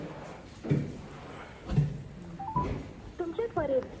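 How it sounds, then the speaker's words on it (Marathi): A mobile phone call being dialed that fails to connect: short electronic dialing tones beep near the end, over a quiet background, with a person speaking nearby. "लावूया फोन फोन लागत नाही मित्रांनो"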